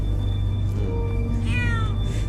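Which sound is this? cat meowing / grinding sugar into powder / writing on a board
cat meowing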